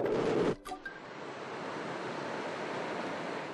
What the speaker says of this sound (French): 2 fois par jour, une vague d'eau salée remonte la rivière